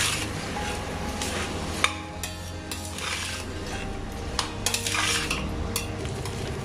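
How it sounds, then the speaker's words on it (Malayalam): Basmati rice and vegetables stirred and fried in a pan: continuous close scraping and rustling with scattered utensil clinks against the pan over a low sizzle, no voices. "ഈ വെജിറ്റബിൾസും നമ്മൾ അരിയും കൂടി നന്നായിട്ടൊന്ന് മിക്സ് ചെയ്യാം"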